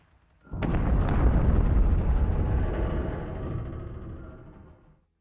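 Missile explosions in a strategy video game: a single heavy, close blast bursts in and swells into a long rolling rumble that slowly fades over several seconds, with no voices.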